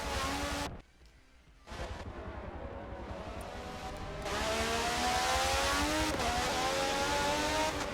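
IndyCar race cars in a sim race at Sebring, loud engines screaming as they accelerate, briefly dropping away to a quiet lull before roaring back and climbing in pitch through the gears.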